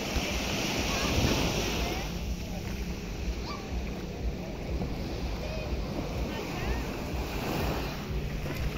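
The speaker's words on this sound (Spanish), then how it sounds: "El mar está sensacional, el agua está tibia para disfrutar todo el día." Sea waves at Playa Mamitas beach in Playa del Carmen on the Riviera Maya surge and wash in a continuous, fairly loud roar, with wind buffeting the microphone throughout.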